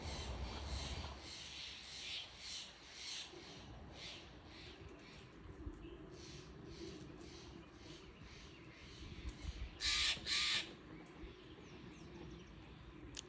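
A wild bird, likely a crow, calls in an outdoor yard with a run of harsh repeated caws, then a louder sharp burst of two calls near the end over steady outdoor background noise.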